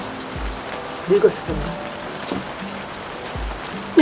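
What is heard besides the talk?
rain falling outdoors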